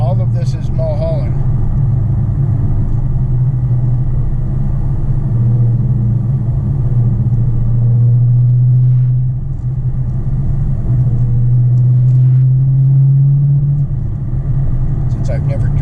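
A 2020 Dodge Challenger Scat Pack Widebody cruising along Mulholland, its engine a steady low rumble from inside the cabin with slight rises in pitch through the turns, under occasional talk.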